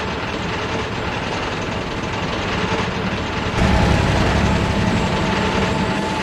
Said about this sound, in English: The big diesel pulled Oliver into the smelter shed.